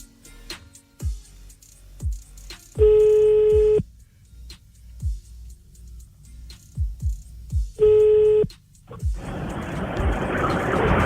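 Telephone dialing with DTMF tones, two bursts of steady electronic tone separated by quiet clicks and handling, followed by a rising hiss of line noise at the end.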